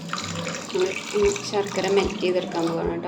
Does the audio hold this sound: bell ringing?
no